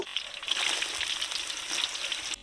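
Finely chopped green chilies and onions sizzle steadily in hot oil, a loud, close, continuous crackle that runs for the whole stretch and stops abruptly at the very end, with no voices.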